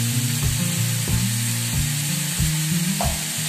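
Vegetable stalks sizzle and crackle in a pan with half-cooked pointed gourd and potato, a steady close frying hiss broken by a few louder bursts and clatters as they are stirred in.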